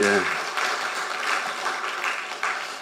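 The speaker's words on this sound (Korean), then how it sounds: "다시 한번 우리 하나님께 우리 영광의 박수 올려드리겠습니다." A church congregation applauds during a Sunday worship service, a dense wash of clapping that follows a brief voice at the start and continues evenly to the end at moderate volume.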